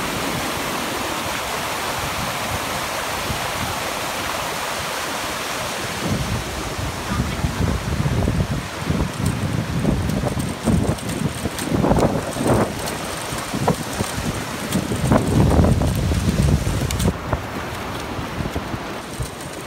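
Clear river water flowing at a sandy bathing spot, a steady broadband rush that swells with louder splashy surges later on, heard alone without talk.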